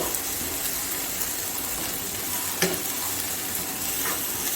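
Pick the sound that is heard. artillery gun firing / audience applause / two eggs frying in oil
two eggs frying in oil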